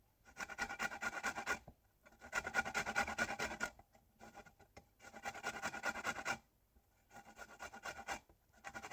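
Lemons and limes rubbed over a fine grater in a kitchen, close rasping strokes in four long bursts separated by short pauses.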